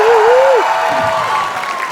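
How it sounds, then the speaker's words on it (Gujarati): Audience applause fills a comedy show studio, steady and loud for the whole moment, with a host's voice riding over the clapping. "તાળીઓ થઈ જાય"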